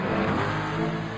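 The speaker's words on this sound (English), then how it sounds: "The car's going round track." Car engine revving hard as it drives round a race track, a loud, continuous roaring burst heard close up for about a second.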